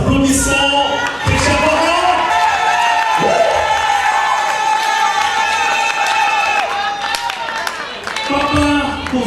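Wedding guests clapping and cheering in a reception hall, a crowd's applause swelling under loud music with shouts and whoops, and a voice talking over it.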